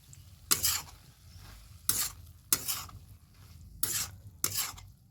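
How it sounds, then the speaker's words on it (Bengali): A spoon scrapes through tomatoes and flowers in a pan in five distinct, loud bursts spaced roughly a second apart, with a faint sizzle and quiet gaps between strokes. "দেখে দিয়ে আমি একটু নেড়ে দেবো"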